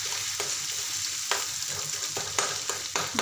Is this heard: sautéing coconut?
yes